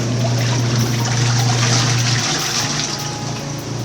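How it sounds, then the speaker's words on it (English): Portable washing machine and dryer running a wash and spin together, giving a steady loud churning of sloshing water over a low motor hum, continuous with no talk. "So I'm now washing and drying or spinning at the same time."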